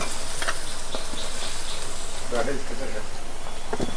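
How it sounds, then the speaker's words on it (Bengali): Chopped tomato and young jackfruit sizzle in hot oil in a pan for a Bengali curry, giving a steady close hiss with small crackles and the scrape of stirring. "টমেটো কুচোটা দিয়ে দিচ্ছি, আর এঁচড়গুলো তুলে দিচ্ছি ওর মধ্যে"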